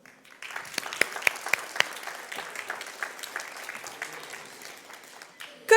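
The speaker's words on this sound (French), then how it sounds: "Je crois qu'il a encore besoin d'applaudissements." Applause breaks out for the ASIMO humanoid robot at a demonstration event, starting with a few sharp separate claps before swelling into a steady wash of many hands, then fading near the end as a louder noise cuts in.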